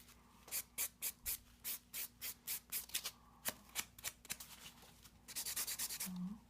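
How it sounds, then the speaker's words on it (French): A fingernail is buffed with quick back-and-forth strokes, a close, soft rhythmic rubbing in short even bursts that speed up into a faster run near the end, quiet and with no voices. "Ensuite, je vais aller boffer l'ongle."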